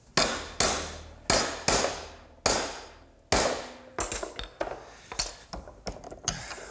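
A hardwood block strikes a bent metal corner to sharpen it while a garden swing is being built. Sharp, close knocks come in an uneven series, some ringing briefly and others quicker and lighter toward the end, with no talk.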